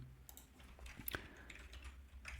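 Code is typed on a computer keyboard as a quiet run of close, soft key clicks in an uneven rhythm, with no voice present.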